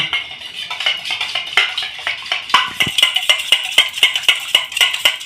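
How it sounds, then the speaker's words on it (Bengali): An egg being briskly beaten with oil in a bowl for a homemade sponge cake, fast rhythmic clinks of the utensil against the bowl repeating steadily and close, with no talking. "এখন আমি দিয়ে দেবো একটা ডিম এই তেলের সঙ্গে ডিমটা খুব ভালো করে ফেটিয়ে নেব"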